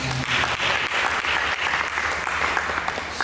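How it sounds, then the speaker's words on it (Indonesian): A church congregation claps together in a short, loud, continuous burst of applause with no voices over it. "Mari kita berikan tepuk tangan."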